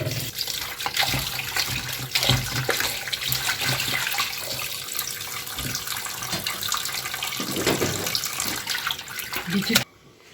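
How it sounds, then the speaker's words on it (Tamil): Tap water runs steadily into a sink while raw chicken is rinsed, a continuous close splashing stream that cuts off abruptly near the end. "சிக்கன் நல்லா கழுவி எடுத்துக்கோணுங்க ஒரு மூணு தடவை கழுவி எடுத்துக்கோங்க"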